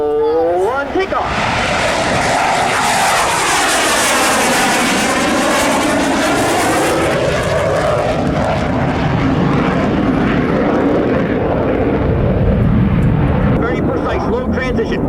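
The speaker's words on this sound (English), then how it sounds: "He will then roll his aircraft 360 degrees with the landing gear extended." Military jet at an air show flying a dirty roll on takeoff with landing gear extended, a loud sustained engine roar that sweeps in pitch as it passes, with commentary spoken over it.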